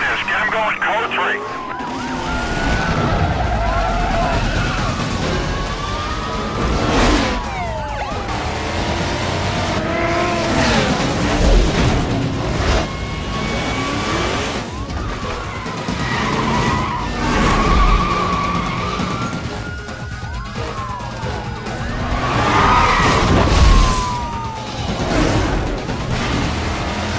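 Race cars in Need for Speed Most Wanted (2005) tear through a police pursuit: roaring engines, repeated tire skids and squeals, and wailing police sirens rising and falling over a loud, continuous driving bed.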